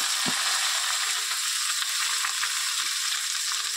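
Mixed vegetables go into hot oil seasoned with panch phoron, bay leaf and dried red chillies, producing a steady, close, hissing sizzle that stays constant throughout with no talking.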